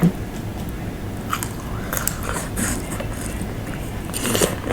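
Crunchy Thai mango salad with peanuts, cockles and shrimp being eaten up close, with repeated bites and chewing crunches at an irregular pace.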